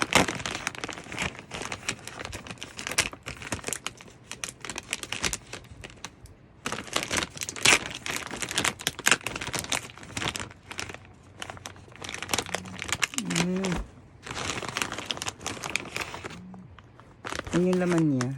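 A crinkly plastic bag of Snapea crispy green pea snacks is torn and crumpled open, giving bursts of loud, close crackling and rustling under ongoing speech.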